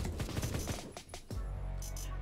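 A light machine gun in Roblox Phantom Forces fires a rapid burst of shots for about a second, then a couple of separate bangs follow before a low steady rumble.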